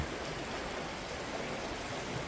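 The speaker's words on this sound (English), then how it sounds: "the creek is flooded." Floodwaters of a swollen creek rush steadily over bedrock in Indiana, a continuous broadband roar of flowing water heard up close with no break and no talking.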